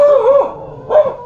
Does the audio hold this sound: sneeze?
no